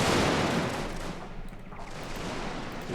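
Musket volleys in a Victoria Total War battle of the Mexican-American War, a dense crackling roar of massed shots that swells loud at first, eases, then carries on steady.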